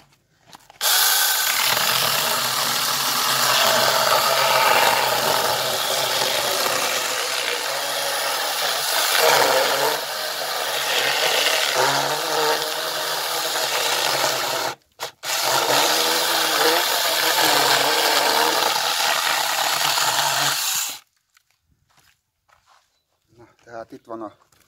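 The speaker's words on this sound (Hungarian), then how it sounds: "éppen átérte a fűrész a fát, és elvágta" A Chinese 21V cordless battery saw cuts through wood in one long, loud, steady buzzing run of about twenty seconds with a brief break midway, then stops abruptly and the air falls quiet.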